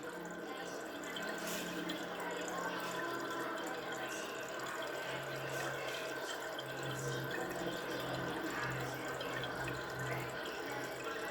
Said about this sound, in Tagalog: May nagpapasok pa siya ng tubig.